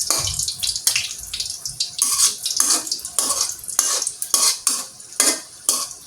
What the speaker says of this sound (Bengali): এভাবে নেড়ে নেড়ে ভেজে নিতে হবে।